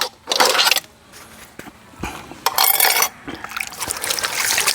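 Running water while washing dishes outdoors beside a mountain, intermittent gushing splashes and trickles with clinks of dishes between bursts, close and fairly loud.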